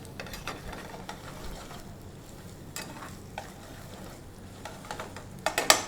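Onions sizzle softly in a pan with a pinch of salt for Naatukodi korma curry, a quiet steady frying hiss with occasional stirring scrapes and a few sharper clinks near the end.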